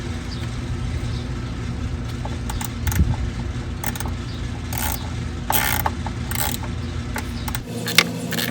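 Ratchet wrench working loose a stubborn bolt on a Ford 5.4L V8 engine during thermostat housing replacement, a steady mechanical clicking and creaking throughout with a few sharper metallic cracks as the bolt gives way.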